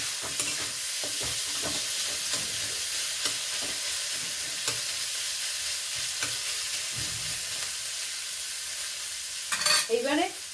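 Onions fry in a pan for palang posto and are stirred now and then, a loud continuous sizzle broken by scraping spatula strokes, with a brief clatter near the end.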